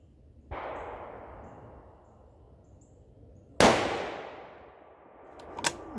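A Howa 1500 rifle firing ELD match ammunition outdoors: two sharp, loud reports, each trailing off in a long rolling echo, followed by a fainter crack near the end.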